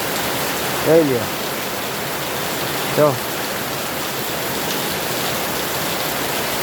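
Steady broadband rain falls over the city of Jamnagar, a constant hiss throughout, with someone speaking briefly twice over it.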